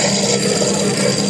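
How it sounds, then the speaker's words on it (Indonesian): A steady, high whirring drill grinds continuously at close range into a printed circuit board, with no pauses over the short stretch. "Kemudian kita bor."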